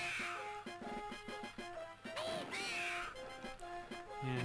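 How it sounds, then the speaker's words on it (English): Crow enemy sound effects from a Donkey Kong game, heard as repeated bright squawks and crashes over steady game music, loud and close throughout. "Yeah, Crow's sound effects are a lot louder here."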